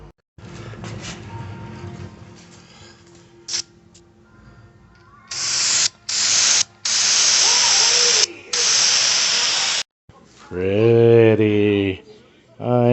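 Aerosol brake cleaner, a can of Acura brand, sprayed onto the brakes of an Infiniti M56 in several loud, close hissing bursts of varying length, followed by someone talking.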